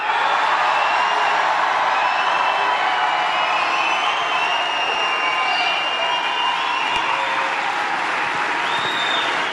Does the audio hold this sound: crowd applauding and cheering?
yes